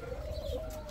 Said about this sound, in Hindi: कबूतर वगैरह आके पानी पी रहे हैं।